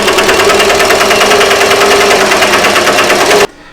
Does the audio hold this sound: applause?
no